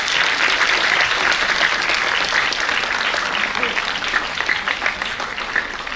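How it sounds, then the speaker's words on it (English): An audience gives a dense, steady round of applause for sarangi player Ehsan Ali, many hands clapping together at close range, tapering slightly toward the end. "So a huge round of applause for him, please."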